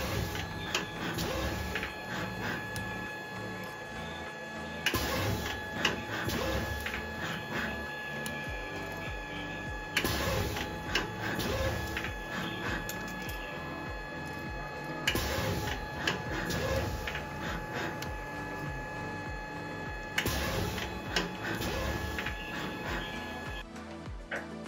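A servo pad printer stamps images onto Lego parts, cycling in a regular mechanical rhythm about every five seconds with whirring motion, clicks and a steady hum, close and continuous throughout.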